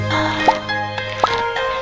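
Watering sound effects from the video game Stardew Valley, with three short, bright, plopping drips about half a second apart, heard over soft game music and a faint voice.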